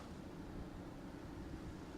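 Racing kart engines rev together on the starting grid at a Monaco Cup race day at Rye House, making a dense, steady low drone that holds at a constant loudness throughout with no talk.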